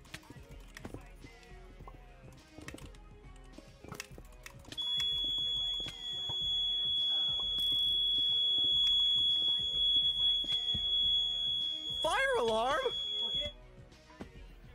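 A home fire alarm sounds as a steady high-pitched tone, faint and continuous for much of the clip, beneath gameplay sounds and a short rising electronic effect.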